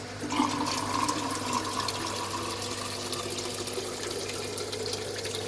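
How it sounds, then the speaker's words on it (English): Water runs steadily into an aquarium tank during a refill, a continuous close gurgling pour with a faint hum underneath. "refilling with water"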